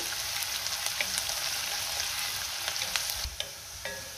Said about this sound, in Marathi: आता कांदा मी 2 ते 3 मिनिटं चांगला परतून घेते।